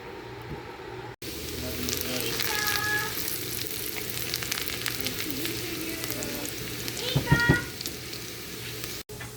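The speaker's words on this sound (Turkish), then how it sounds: "Tereyağımızı eritelim ve soğanımızı pembeleşene kadar kavuruyoruz" Onions sautéing in melted butter for a pea dish, a continuous close sizzle with light stirring and a brief louder flare near the end, with a faint voice in the background at times.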